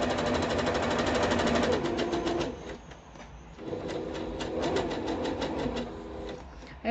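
Sewing machine stitching binding onto the edge of a hooked rug, a steady close mechanical whirr that pauses briefly mid-run while the needle stays down at a corner, then resumes.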